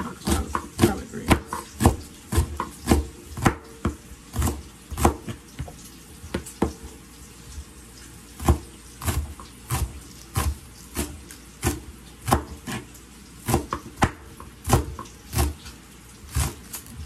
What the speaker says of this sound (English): first I'm going to go ahead and cut up my onions